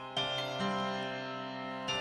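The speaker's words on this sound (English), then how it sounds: "this is just a room reverb" Room reverb from the Crypt engine of the Blackmagic plugin, applied to sustained tonal notes that ring and overlap in a dense wash, fairly quiet and steady with no talking.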